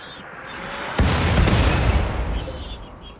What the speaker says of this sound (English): Let's see what kind of damage our mortars do.